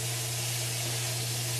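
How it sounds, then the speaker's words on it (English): Jack Daniel's whiskey poured into a hot cooking pan: a continuous, even hiss of steam with a low hum underneath, with no voices. "Now I'm going to add a little bit of Jack Daniels to that."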